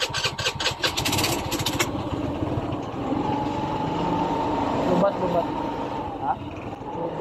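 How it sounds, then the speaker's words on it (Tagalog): A Euro SIP 125 motorcycle engine push-starts and catches, then settles into a steady idle, with a voice talking over it. "At yun na nga, umandar ang motor"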